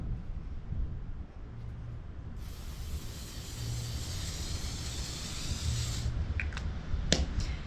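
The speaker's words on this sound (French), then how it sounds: "C'est un spray 50, c'est un spray solaire 50 qui se met par-dessus le make-up." Garnier Over Makeup Super UV sunscreen mist sprayed over makeup: a steady airy hiss of about three and a half seconds, fairly close and soft, ending abruptly, followed by a few light clicks and taps.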